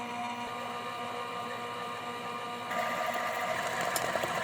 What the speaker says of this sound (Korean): 재료를 대충 섞은 다음 우유를 넣고 믹서기를 돌렸어요.